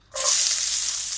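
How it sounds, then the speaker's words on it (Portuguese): Oil sizzling in a pan for sautéed cabbage, a sudden bright frying hiss that bursts in after a brief silence and carries on loud and steady, close up. "Agora, um pouquinho de óleo. Vamos fazer o repolho refogado."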